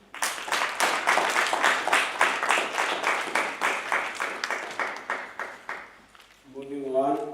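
Audience at a district road safety debate competition claps in a dense burst that thins and fades over several seconds, then a voice starts speaking at the end.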